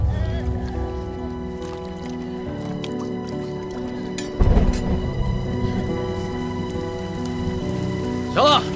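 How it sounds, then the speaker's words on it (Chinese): Rain falls in an outdoor period-drama scene, a soft patter and dripping beneath a sustained music score, with a brief voice or two breaking in near the middle and end. "下雨了"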